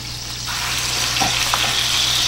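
Food sears in a very hot, heavy-bottomed stainless steel braising pan, giving a steady, close hiss and crackle with faint clinks of a utensil and a low background hum.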